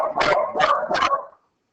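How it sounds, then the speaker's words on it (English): A dog gives three quick, loud barks in an even rhythm close to the microphone, then falls silent. "A dog barks."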